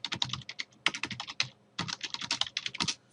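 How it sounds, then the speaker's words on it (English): Fingers type on a computer keyboard in two quick bursts of crisp, close clicking, with a short gap between them and no voices. "I'm going to type in James Dixon and Sons"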